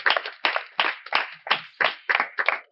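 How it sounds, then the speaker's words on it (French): Clapping at a ceremonial gathering honoring a king comes as about nine distinct, crisp claps in a regular rhythm. The claps are close and isolated, more like a few hands than a large crowd. "un tonnerre d'applaudissements pour notre grand roi"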